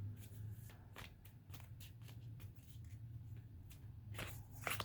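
Tarot cards shuffled by hand in a quiet room, a steady run of soft riffling flicks and slaps at close range, with a low hum underneath and no talk.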